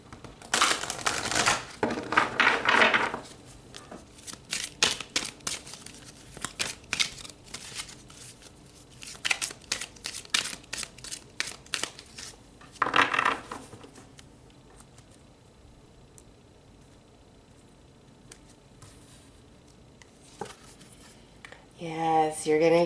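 Tarot cards being shuffled and pulled, with several bursts of riffling and flicking patter close to the microphone, separated by quieter stretches of handling and light tapping.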